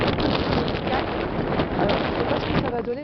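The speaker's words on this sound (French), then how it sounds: "Il y a du vent." Strong outdoor wind buffets a microphone in a continuous loud rumble with gusty swells, and no voice is heard over it.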